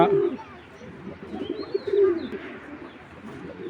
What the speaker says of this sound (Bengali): এগুলো হলো আপনার রেজাল্ট করা কবুতর